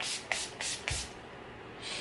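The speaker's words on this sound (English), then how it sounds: "I always use the Urban Decay All Nighter Spray." Several short, airy spritzes of Urban Decay All Nighter makeup setting spray, three quick bursts close by, then a softer hiss.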